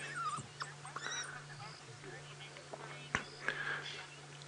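African wild dog puppies give soft whimpers and high yips on a morning safari drive, close by and fairly quiet, mixed with a few faint voices and a vehicle hum.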